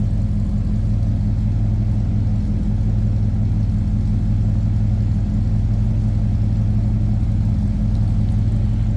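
A 1959 Ford Fairlane 500 Galaxie hardtop with its 332 V8 running, a deep steady idle rumble held close and loud for the whole stretch without any talking.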